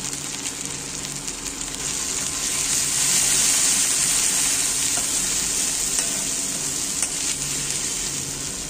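Ginger paste and ground cumin hit hot oil on a lowered gas flame, giving a continuous close sizzle and crackle that swells slightly midway, with light stirring and no talk.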